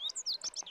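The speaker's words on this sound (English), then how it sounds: "That one is actually a bunting." A bunting gives a quick run of four or five high, thin chirps in under a second, clear and close, with no talking over it.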